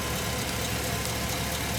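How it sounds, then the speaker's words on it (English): A Chevy Express van engine idles steadily with a vacuum line disconnected to create a leak, a constant close mechanical hum with no talk. "I heard the engine RPM change a little"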